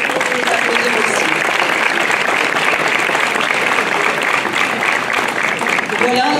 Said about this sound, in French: Je vous propose d'applaudir aussi.